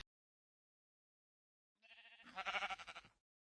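A single sheep bleats in the Minecraft video game, one short wavering bleat standing alone against silence.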